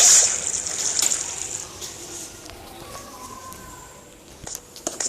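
A water bucket emptied in Minecraft survival mode, heard as a splashy rush of water that fades into a low trickle with a few faint drips, with no voices.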